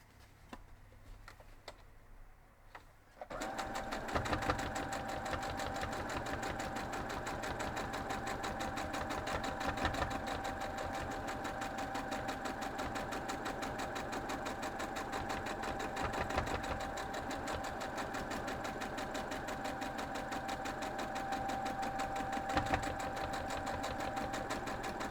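A sewing machine stitches an hourglass quilt block, starting after a few quiet seconds and then running in a steady, rapid mechanical whir with fine ticking rhythm, close and uninterrupted to the end.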